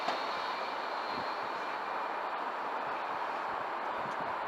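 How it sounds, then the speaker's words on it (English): Heathrow Express train, unit 332005, rushing past as a continuous broad roar that holds steady and loud throughout, with no voices over it. "The Heathrow Express."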